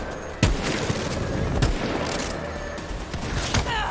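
Gunfire in the video game Borderlands 3 rattles in dense bursts with a few sharper, heavier shots standing out, loud and continuous over a busy game soundscape.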